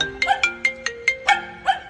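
A phone ringtone plays a bright, chiming melody of quick repeated notes with steady sustained tones underneath, loud and alone with no voices.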